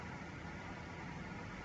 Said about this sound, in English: Hear that those two wonderful Rolls-Royce engines coming alive.